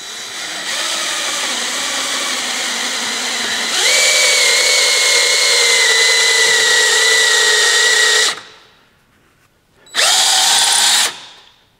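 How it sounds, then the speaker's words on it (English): A power drill boring two holes to mount the motor of an old grinder during its restoration, heard up close as a loud steady whine that rises in pitch partway through, cuts off, then gives one shorter burst. "So what I'm going to do is drill two holes."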